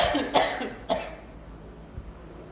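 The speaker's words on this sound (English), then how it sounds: "maybe when I cough, I should turn my head." A person coughs twice in quick succession, close and fairly loud, followed by quieter breathing.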